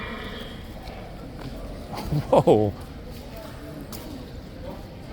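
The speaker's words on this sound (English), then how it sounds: "I think that was the loudest ever neigh from the stable area." A horse in the King's Guard stable area at Horse Guards lets out a loud, brief neigh that stands out over crowd murmur and outdoor ambience, with a person exclaiming nearby.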